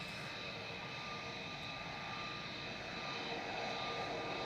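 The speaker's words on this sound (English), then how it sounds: "The Aer Lingus UK has been cleared to taxi short of" Aer Lingus UK airliner's jet engines whining steadily as it taxis at Manchester Airport, a faint, continuous, distant hum with a thin tonal whine and no break.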